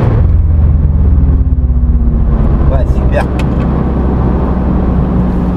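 A Porsche sports car driven at full throttle on a racetrack, its engine a loud, steady close-up drone with a brief shift in pitch midway.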